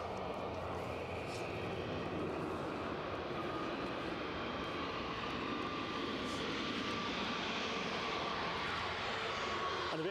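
An airliner taxis quickly at Edinburgh Airport, its engines giving a steady, even roar heard from a distance that stays constant from start to finish.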